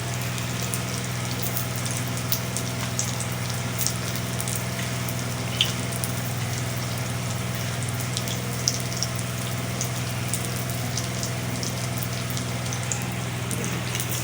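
Aloo tikki patties frying in a pan give a steady, even sizzle that continues throughout over a low hum, with faint crackles and pops on top and no voices.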